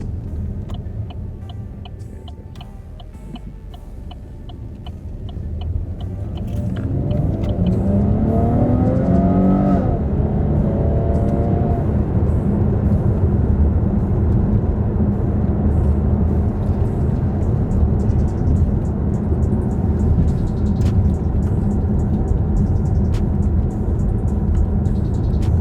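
An automatic car in manual shift mode revs up after a downshift, its engine climbing through rising harmonics over a steady low rumble. The sound is loud and close, with no talking.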